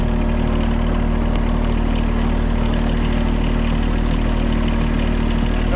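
A rare mini truck, a barn find, drives on a gravel road with its engine running loud and close, a steady unbroken drone throughout.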